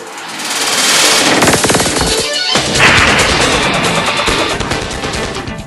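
Loud burst of gunfire in an Indonesian police news report about a fleeing drug courier being shot, with rapid crackling shots, crashing impacts and noisy bursts lasting several seconds, no talk.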